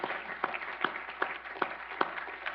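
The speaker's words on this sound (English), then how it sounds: "please join me in giving Alex a great round of applause" An audience gives a speaker named Alex a modest round of applause, with sparse claps and a few sharper ones landing at a fairly even pace above a quiet room.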